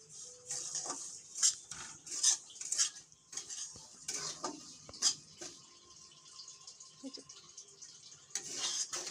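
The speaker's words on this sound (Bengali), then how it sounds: "ভেজে নেব, নাড়াচাড়া করে" Semolina being stir-fried dry in a wok for suji halwa, heard as repeated scraping and clinking of a metal spatula against the pan in irregular bursts, close and moderately loud, with no talking.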